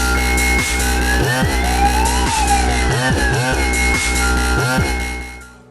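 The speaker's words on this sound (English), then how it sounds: "that's why it sounded like an ambulance and fire engine" A van's siren wails like an ambulance and a fire engine, its tone sweeping up and down repeatedly over loud, beat-heavy music that plays the whole time.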